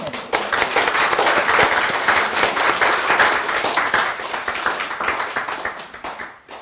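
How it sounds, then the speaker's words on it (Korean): A church congregation at a faith retreat applauds warmly, a full steady round of many hands clapping that fades gently toward the close. "다 박수로 뜨겁게"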